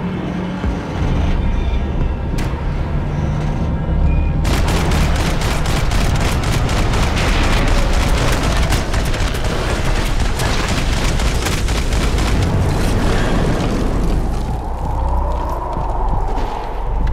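Rapid gunfire and booming shots from the video game Max Payne 3, a dense, loud barrage of bursts running for most of the stretch with game effects, voices under it.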